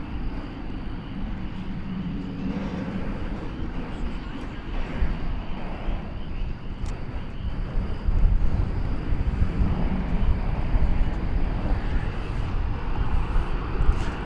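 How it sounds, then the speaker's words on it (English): An American Eagle passenger jet taxis past big American Airlines jets at Terminal D, DFW Airport, at night: a steady, broad engine roar with wind noise that swells slightly in the second half, with no one talking over it. "Flight 3588 American Eagle. As it goes by some big American Airlines jets there at Terminal D."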